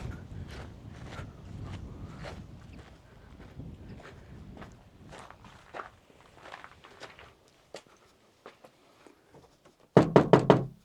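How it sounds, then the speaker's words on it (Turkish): Knocking on a wooden door of a house in an abandoned village: a few scattered soft taps through most of the span, then a loud, close burst of rapid knocks at the end, with light wind in the background. "Sen çek ben kapıyı vurayım geleyim."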